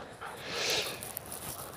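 A Malinois or Dutch shepherd pants during ring training in the rain, quick breathy huffs heard faintly at close range against a soft background wash.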